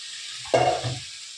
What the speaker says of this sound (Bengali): ঘুগনির মশলা কষাচ্ছি